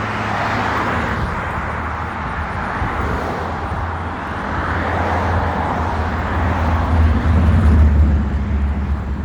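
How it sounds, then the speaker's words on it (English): Steady roar of cars passing on a busy road near a supermarket, a continuous broadband rush with low engine rumble that swells and fades as vehicles go by, fairly loud and with no voices. "A lot of cars go by."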